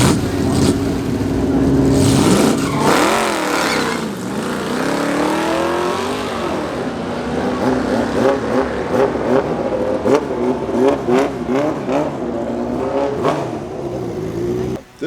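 A drag race car's engine revs hard during its second test run, climbing and dropping in pitch in repeated loud sweeps, then surging in quick uneven bursts, close and continuous.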